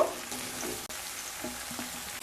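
Chopped ridge gourd goes into a pot of partly boiled potatoes for a vegetarian jhinge dish, giving a soft, low sizzle with light stirring scrapes and a brief knock near the middle.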